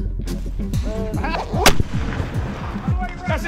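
Mortar fire during an airsoft game, a loud close bang followed by rumbling echoes and repeated booming impacts that roll through the whole stretch.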